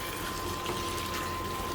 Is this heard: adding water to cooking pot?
yes